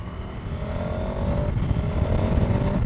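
A KTM 1290 Super Adventure S motorcycle engine running with a steady low drone and a couple of throttle blips rising in pitch, heard close and alone without speech.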